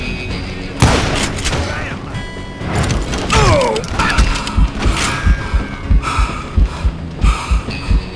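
Gunfire in the Western shooter game Call of Juarez Gunslinger: a loud opening shot, then a run of sharp, rhythmic gunshots and booms, close and punchy, with brief voice sounds in between.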